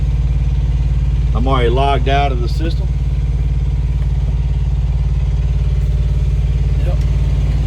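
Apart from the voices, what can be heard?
truck APU (auxiliary power unit) running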